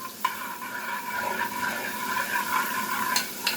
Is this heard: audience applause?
no